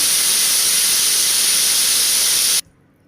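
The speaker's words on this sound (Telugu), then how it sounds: "ఫోర్ విజిల్స్ వచ్చిన తర్వాత ఇలా ఆవిరి తీసేయాలి" Steam from a pressure cooker releasing after four whistles while cooking mutton curry, a loud steady rushing hiss that runs unbroken for over two seconds and then cuts off abruptly.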